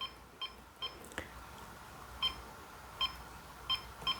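Short electronic keypad beeps from a KIS-2420 card payment terminal, spaced irregularly as keys are pressed, fairly faint over a quiet room background.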